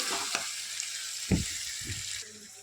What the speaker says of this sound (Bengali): এবার তেজপাতাটা দিয়ে দিলাম এবার চিকেন ছাড়লাম